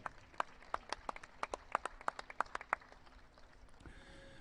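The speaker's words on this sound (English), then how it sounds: "Let's give them a round of applause" A few people clap at a Charolais cattle sale, sparse distinct claps ringing out in an uneven rhythm for several seconds before stopping, quiet and slightly distant.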